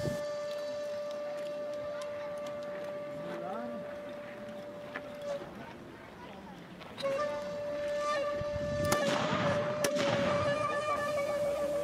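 Matchlock guns fired by samurai gunners at a demonstration, several sharp reports going off irregularly one after another, with someone talking between shots and a steady tonal hum underneath.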